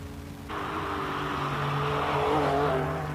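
A 745 race car revs hard at the Simola hill climb, its engine note rising after a quiet start and holding a loud, sustained, strained howl with harmonic drone throughout, close by and alone.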